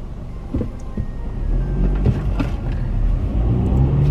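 A car gives off a steady low rumble and engine drone while driving, with a faint recurring whir and occasional soft knocks throughout, loud and continuous.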